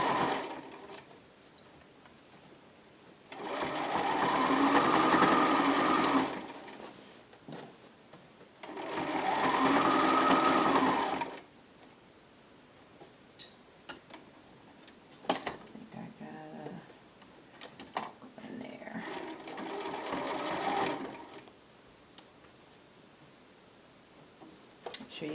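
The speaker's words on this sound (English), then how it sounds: "Okay, we're stitching a curve." A sewing machine stitches a curve on a bomber jacket in two steady runs of a few seconds each, a close whirring hum separated by quiet pauses, with soft handling clicks and speech in between.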